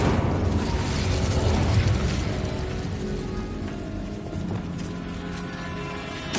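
An Incendio fire spell is cast in Hogwarts Legacy, inside a spider-infested tomb: a loud, broad whooshing roar of flame that fades slowly, overlaid with scattered crackles and mechanical clicks, with no speech.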